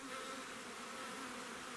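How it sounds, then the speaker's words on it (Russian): Honey bees buzz around spilled sugar syrup at an apiary after the colonies have been fed, a dense, steady hum of many insects, faint and continuous without pauses. "вон пчелки учуяли сироп"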